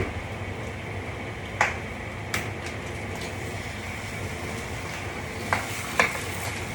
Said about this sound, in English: One other thing we need to do is fry an egg to put on top.